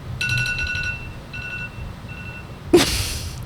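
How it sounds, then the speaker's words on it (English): An alarm beeps in a quick run of bright electronic tones that repeat for about a second and a half, followed by a sudden sharp burst of noise, all with no talking. "But that was the alarm."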